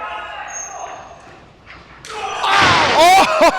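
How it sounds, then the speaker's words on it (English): A professional wrestler taking a lariat and crashing onto the ring mat: a loud slam and thuds near the end, with crowd noise rising after a quieter stretch of commentary. "Joe Scott takes the lariat"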